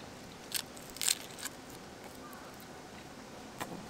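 Teeth bite into a crunchy nori-wrapped convenience store rice ball with shrimp and mayonnaise, giving a few sharp, close crunches near the start and one more a few seconds later against quiet background.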